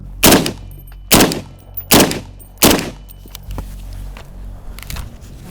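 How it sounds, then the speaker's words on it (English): SCAR and FAL rifles fire at a titanium Altyn helmet at close range: four loud, sharp gunshots spaced under a second apart, each followed by a short ringing decay, then quieter crackles and handling noise. "shoot it with a SCAR and FAL at close range"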